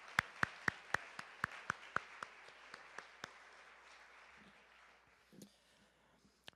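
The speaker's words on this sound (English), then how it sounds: "Let's give a round of applause to Russ for all he does for this athletic department." Audience at an awards ceremony for an athletic department claps in a burst of sharp, evenly spaced loud claps that thin out and fade into softer scattered clapping and room noise.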